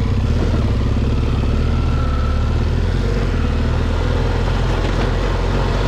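Motorcycle ridden through Morocco's Jaffar cirque, a loud steady engine drone with rattling and wind, close and continuous with no talking.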